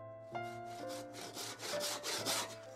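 Hand saw cutting through wood while a figure is carved, steady back-and-forth strokes in a regular rhythm, close and fairly quiet with no talk.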